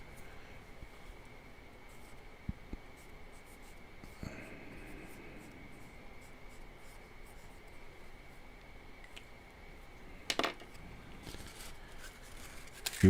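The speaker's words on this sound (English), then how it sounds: "Go ahead and write his name on here anyway." A pen writes a name on a paper coin roll wrapper, faint scratching strokes against a quiet room hiss, with a couple of sharp handling clicks and rustles.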